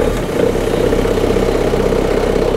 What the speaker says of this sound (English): So now we can see the engine's running